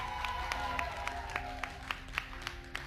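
A studio audience applauds the Roblox Creator Showdown champions, with steady scattered clapping and a few sharper individual claps standing out over a soft crowd bed.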